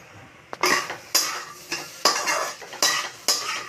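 A spoon stirs cooked masoor dal in a pot with about six distinct scraping strokes against the metal, each a sharp clatter fading into a soft wet swish, close and clear with no talk.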